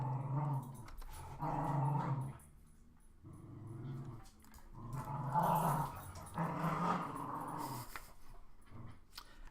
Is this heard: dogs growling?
yes